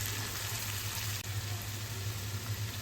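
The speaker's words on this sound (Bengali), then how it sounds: "সাথে দিয়ে দিলাম 1 চামচ আদা রসুন বাটা। এগুলো লড়াই ছেড়ে একটু ভাজে নিলাম।" Onion paste and ginger-garlic paste frying in hot oil for a pangas fish bhuna, a steady, close hiss of sizzling with no talk and a constant low hum underneath.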